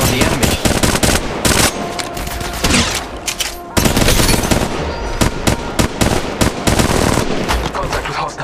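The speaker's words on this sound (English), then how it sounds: "Opening fire on the enemy." Rapid automatic gunfire in the mobile battle royale game Apex Legends Mobile, sustained bursts of loud shots with brief gaps, a sharp cut near the middle, dense and close throughout.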